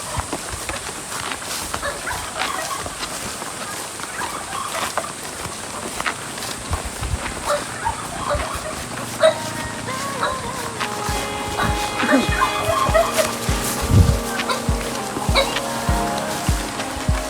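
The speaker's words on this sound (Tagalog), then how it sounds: "sinalubong kami ng mga aso dito guys" Dogs bark in short bursts over a steady hiss of rain, growing busier toward the end, with faint voices in the background.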